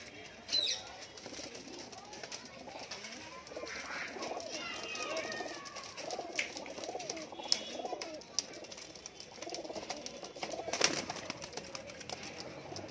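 Pigeons coo softly and intermittently in a loft or market setting, faint and low beneath someone talking, with occasional rustling and wing sounds.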